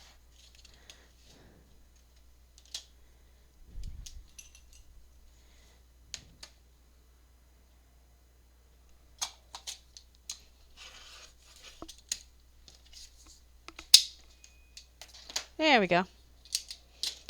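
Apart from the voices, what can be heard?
scissors cutting candy box cardboard for junk journal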